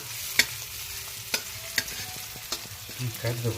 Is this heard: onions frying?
yes